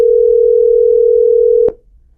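On an outgoing telephone call, a steady electronic ring tone sounds loudly for under two seconds, then cuts off with a sharp click as the line is answered, leaving faint background hum.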